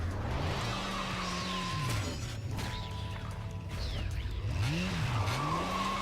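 A motorbike in the video game Bayonetta revving and skidding through a midair fight with an angel: rising engine whines, tire squeals and a sweeping pitch dip over dense game noise.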